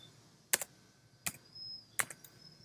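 Three sharp, separate keystroke clusters on a computer keyboard as numbers are typed, recorded close in a quiet room, each a quick double tap about three quarters of a second apart.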